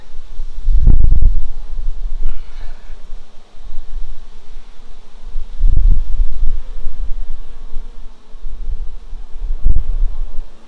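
Honey bees buzz around an open hive during a warm-weather inspection, a steady low hum broken by three louder swells as bees pass close, with no talk.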